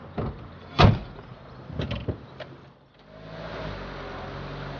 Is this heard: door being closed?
yes